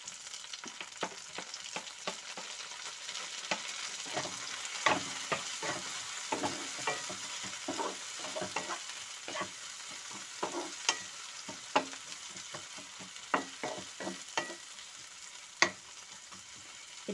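Ginger and then tomatoes frying in a pan, a steady close sizzle with frequent stirring clicks and scrapes, no talking.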